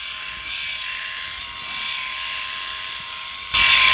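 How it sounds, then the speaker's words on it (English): A Philips i9000 electric shaver runs against the grain, a steady close electric buzz with a higher whine that shifts slightly with pressure, then grows suddenly louder and harsher near the end. "Now while I shave against the grain like this and put more pressure on"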